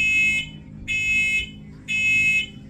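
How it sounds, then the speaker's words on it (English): Household smoke alarms go off in three loud, shrill, evenly spaced electronic beeps, each about half a second long, with short pauses between them and no voices. "The alarms are going off randomly with no explanation."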